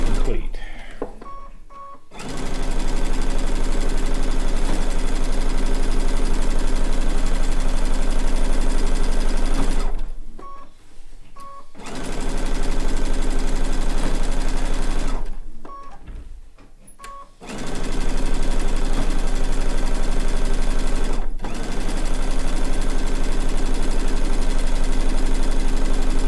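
A sewing machine stay stitching around the edge of a blue and white quilt top, running in three long steady bursts of rapid whirring separated by brief pauses with small clicks and handling sounds.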